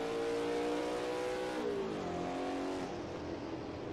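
A race car engine revs and shifts through corners on the 1955 Dundrod circuit in Assetto Corsa, a steady loud engine drone with pitch rising and falling as the throttle and brakes are worked.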